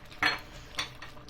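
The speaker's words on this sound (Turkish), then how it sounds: "Ara ara karıştırıyoruz." Homemade tomato ketchup is stirred in a pot on the stove, a spoon scraping and knocking against the pot in a few short, close strokes.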